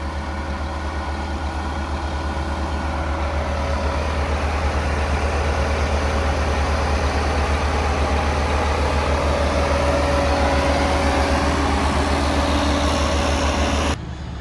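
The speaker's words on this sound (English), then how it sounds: "Trenton's trying to pop wheelies in the Massey" A Massey Ferguson tractor engine runs steadily and loudly throughout, a low diesel drone with a faint whine, idling and rumbling without pause until it cuts off at the end.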